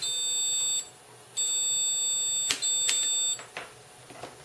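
High-pitched steady test tones play through a small class AB or class D amplifier board, sounding in sustained beeps that stop and restart, with a few clicks and knocks between them.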